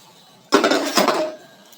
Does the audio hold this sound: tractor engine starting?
no